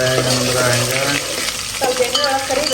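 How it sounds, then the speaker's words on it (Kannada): Garlic and curry leaves fry in hot oil in a pan while being stirred, making a loud, dense, continuous sizzle with scraping close by. "ಬೆಳ್ಳುಳ್ಳಿ ಕರಿಬೇವು ಹಾಕೊಂಡು ಒಂದು ಸ್ವಲ್ಪ ಬೆಳ್ಳುಳ್ಳಿ ಫ್ರೈ ಆಗಂತ ಮಿಕ್ಸ್ ಮಾಡಿ"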